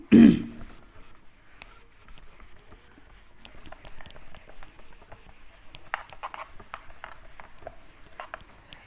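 A duster rubs writing off a classroom board during a physics lesson: after an initial bump, a long stretch of soft, steady scrubbing and brushing strokes, fairly quiet and uninterrupted by talk.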